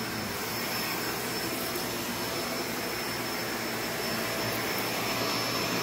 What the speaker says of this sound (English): I'm going to just show you how easily that vacuums up.